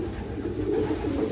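Pigeons cooing softly in a racing pigeon loft during a rest day, a low steady burble of coos continuing throughout with no talk.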